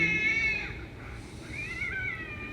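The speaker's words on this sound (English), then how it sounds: "woo, cat fight" Fighting cats yowl and caterwaul in long, wavering cries, rising and falling over a couple of seconds at moderate distance.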